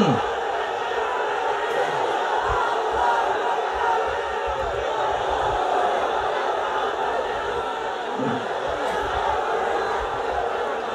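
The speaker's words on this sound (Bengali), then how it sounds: "আসমান জমিন কাঁপিয়ে তোলো তাকবীর ধ্বনিতে।" Large crowd at a religious sermon roaring takbir together, a sustained dense mass of shouting voices filling the space at steady loudness throughout.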